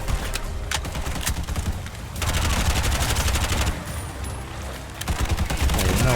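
Rapid bursts of automatic gunfire from the video game Bright Memory Infinite rattle loud and dense, coming in sustained volleys with brief dips between them.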